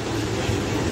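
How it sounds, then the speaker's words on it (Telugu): The Sabari Express, running from Secunderabad to Trivandrum, pulls away after a chain-pull stop with a steady, heavy low rumble heard close up, continuous and without voices. "12:28కి బయలుదేరింది ట్రైన్ అయితే."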